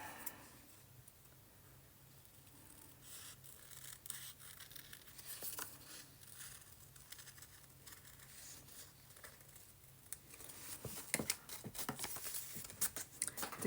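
Scissors snip around a folded sheet of paper to cut out a heart shape, a quiet run of small ticking cuts that grows louder and more crisp toward the end, with no talking.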